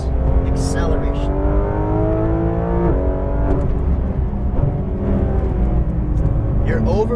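A Porsche 911 GT3 RS of the 991.2 generation accelerates on a race track at Exotics Racing Las Vegas, its engine rising through the revs in steady upshifts, loud and close under an instructor's voice.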